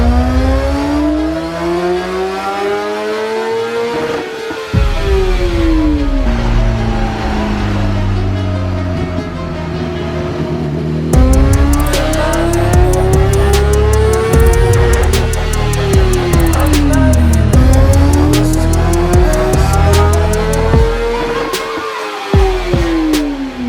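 2014 BMW HP4 motorcycle on a dyno for a baseline run with the catalytic converter still fitted, its engine revving hard in repeated loud rising sweeps to high pitch, each cut off, then climbing again.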